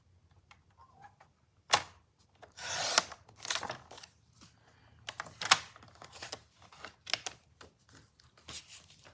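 Paper being cut to size for a stamped card, a series of separate sharp slicing and trimming strokes with short pauses between them, close and fairly quiet.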